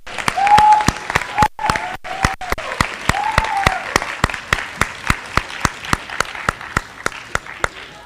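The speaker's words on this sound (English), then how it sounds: "Let's give him another round of applause." An audience at a school awards assembly breaks into sustained applause, a dense burst of many hands clapping that gradually thins out to scattered claps.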